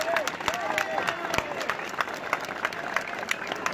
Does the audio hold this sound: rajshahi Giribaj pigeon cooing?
no